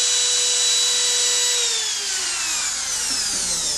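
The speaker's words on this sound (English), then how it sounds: "I use a 1/4 inch router bit that cuts about 245 thousandths" A router fitted with a 1/4 inch bit, used with a microfence, cutting an inlay groove in wood: a loud, continuous high whine that dips slightly in pitch as the bit moves through the cut.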